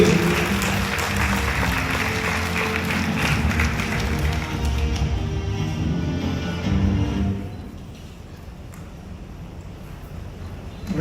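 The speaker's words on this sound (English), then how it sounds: "please join me in giving Venugopal sir a warm round of applause as he comes forward to the podium" Audience applauding as the speaker Venugopal walks up to the podium, a dense, steady roar of many hands clapping that swells, then thins out and fades after about seven seconds.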